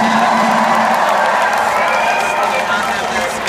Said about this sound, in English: we should have a round of applause for the crew